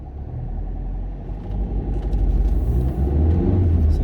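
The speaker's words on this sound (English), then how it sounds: "So car coming." A car drives past at a roundabout on a driving test route near Cambridge Road in Wigston, a steady low engine rumble that swells slightly louder toward the end, with no talk over it.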